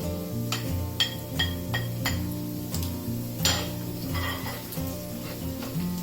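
Chili goes into a sizzling pan of spaghetti aglio olio with green beans, steady frying hiss broken by repeated metal utensil clinks and scrapes against the pan, close and fairly loud, with no talking.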